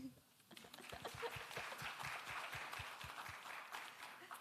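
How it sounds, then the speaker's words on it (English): An audience claps after a presentation at a talk, a fairly faint, scattered patter of hands with a few distinct claps standing out, heard from a distance. "Can we give her a round of applause?"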